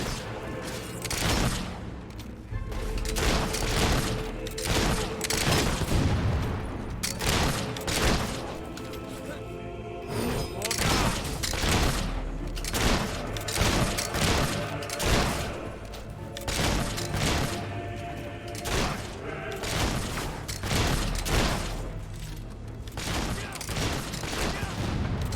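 Rapid, repeated gunfire bursts from Fable 3 gameplay, sharp cracks and thuds tumbling over one another almost continuously for the whole stretch, loud and close, with booming hits mixed in.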